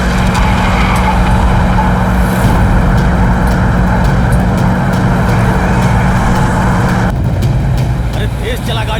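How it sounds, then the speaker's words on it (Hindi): A car driven fast, its engine and road roar loud and steady throughout, with a shift in tone near the end and voices faintly mixed in. "गाड़ी तेज भगाओ।"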